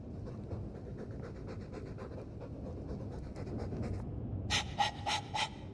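Rhythmic dog panting from Dragon Age 2 continues for several seconds at close range, then gives way to a few sharp, bright bursts near the end.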